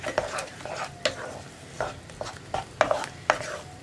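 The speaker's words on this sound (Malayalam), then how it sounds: "മുട്ട ചേർത്തിട്ട് ഉടനെ തന്നെ നമുക്ക് ഇളക്കി കൊടുക്കാം." A spatula stirs egg bhurji in a pan on high flame, with irregular scraping and tapping strokes against the metal, close and fairly loud.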